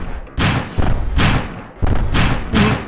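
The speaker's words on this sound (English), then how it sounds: "There's so many bombs." Bombs go off in the Stumble Guys video game as four heavy thumping blasts in an uneven rhythm, each loud and close with a short decay.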